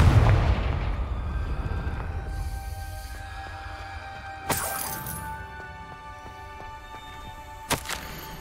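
Confringo fire spell cast in the video game Hogwarts Legacy, heard as a sharp cracking blast near 4.5 seconds and a second, crisper burst around 7.7 seconds over a low rumbling game ambience with sustained tones.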